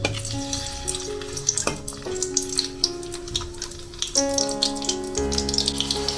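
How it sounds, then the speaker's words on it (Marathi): Crushed garlic cloves with skins fry in hot oil with a continuous crackling sizzle, while tonal clanks and ringing from nearby utensils sound over it. "आता ही लसूण चांगली फ्राय झाली आहे"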